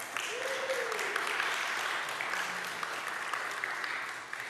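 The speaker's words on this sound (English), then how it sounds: "Let's give them a round of applause" A congregation at a church gathering applauds two people called forward, steady dense clapping at moderate distance that holds level throughout, with faint murmured voices underneath.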